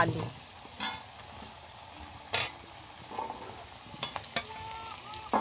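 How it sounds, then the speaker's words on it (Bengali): Potato pieces frying in oil in a pan, the same oil just used for fish, with a soft steady sizzle under scattered sharp scrapes and clinks of a spatula against the pan, fairly close and moderately quiet. "আর ওই একই তেলেতে আমি আলুগুলো আমি ভালো করে ভেজে নেব।"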